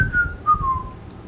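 A person whistles merrily while walking, a clear solo whistled tune of a few gliding notes, close and alone.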